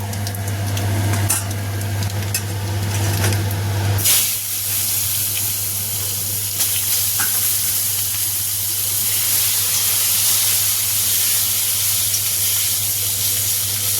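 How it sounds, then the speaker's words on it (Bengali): Sliced eggplant frying in hot oil with black cumin, a loud, dense sizzling hiss that flares sharply as the pieces go in and then settles into a steady close crackle. "বেগুনগুলোকে আমি একটু লাল লাল করে ভেজে নেব।"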